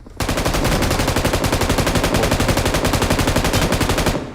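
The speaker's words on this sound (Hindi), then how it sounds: "मैं गोली चलाता रहा" Rapid automatic gunfire from a BGMI mobile battle royale match, a loud, steady rattle of closely spaced shots lasting about four seconds with no pauses and no talk.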